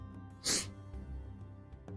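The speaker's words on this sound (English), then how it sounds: "I've been sneezing all morning." A single sharp sneeze from someone with allergies, short and loud against a quiet indoor background with faint low hum.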